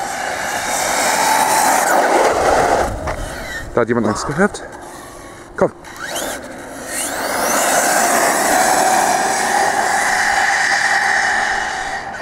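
A remote-control model car at an RC meet in Hamburg-Langenhorn rolls past with a steady, heavy rumble like a truck or train, rising and falling over the clip, with a few brief knocks and a short spoken word from a nearby voice.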